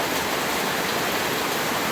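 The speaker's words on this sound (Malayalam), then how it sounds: "മഴ ഭയങ്കരമായിട്ട് കൂടി കേട്ടോ" Heavy rain pours down without a break, a dense, even roar of falling water that stays steady and close throughout, with no voices.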